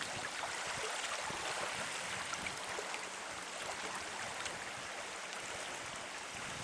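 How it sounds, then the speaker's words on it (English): Water washes along a lakeside shoreline in a continuous soft rushing wash, with faint splashy irregular slaps and a breezy hiss, steady and moderately quiet, with no voices. "listening to the water slap on the shoreline"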